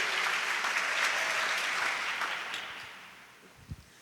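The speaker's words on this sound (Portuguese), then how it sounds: "Então aplauda o Senhor. Dê um aplauso ao Eterno," A church congregation at a prayer service bursts into sustained applause as a dense, hissing wash of many hands. It fades steadily over the last second, and a brief thump follows near the end.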